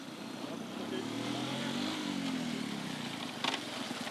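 An okada motorcycle taxi engine runs at a steady idle with a low, even drone nearby, swelling slightly partway through, and a voice is heard briefly in the background.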